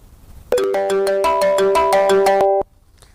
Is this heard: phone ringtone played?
yes